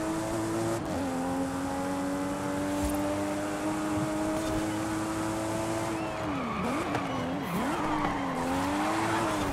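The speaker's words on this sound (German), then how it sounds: "Hervorragender Drift" In Forza Horizon 5, a car drifts with a loud, sustained engine drone and long tire squeals that bend and wobble in pitch as it slides, heard up close with no talking.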